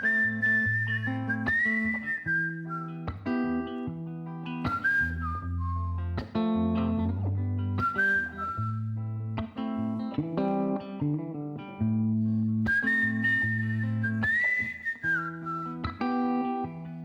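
A whistled melody carries a song, with clear sustained and sliding whistled notes over steady accompaniment that runs loud and continuous throughout.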